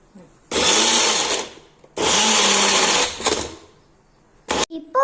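A kitchen mixer grinder blends carrot, beetroot and apple with water into juice in two loud whirring bursts of about a second and a half each, followed by a short clatter of the jar.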